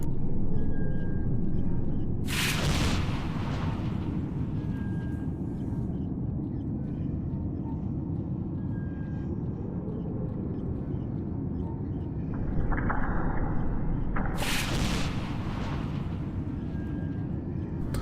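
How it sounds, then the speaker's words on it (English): Gunfire in the video game S.T.A.L.K.E.R., two loud booming bursts about twelve seconds apart over a constant low rumbling ambience. "we're just going to do some shooting"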